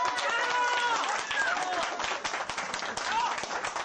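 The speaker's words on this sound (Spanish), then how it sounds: "A ver, aplauso para mi amigo Chue." An audience claps and cheers in a loose, crackling burst at an event, steady and fairly close, with voices chattering through the applause.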